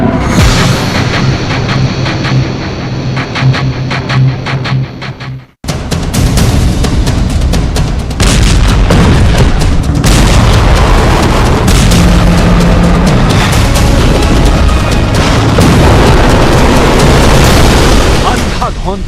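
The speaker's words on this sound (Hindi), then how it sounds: "तोप से निकले गोलों और बारूदी आग" War footage from Ukraine with explosions and artillery fire: loud booming blasts and bursts rolling one after another, dense and continuous, with a sudden cut partway through and voices mixed in.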